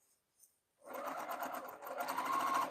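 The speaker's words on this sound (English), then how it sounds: "I'm going to be sewing that across the top" A sewing machine stitches a star-print quilt border strip, starting after a near-silent pause with a faint tap, then running in a steady, close, continuous whir that rises slightly toward the end.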